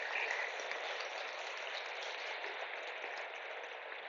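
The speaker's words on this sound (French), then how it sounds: "on peut l'applaudir" An audience applauds a testimonial speaker, a dense, even hiss of many hands clapping at a moderate distance, steady and unbroken for the whole stretch.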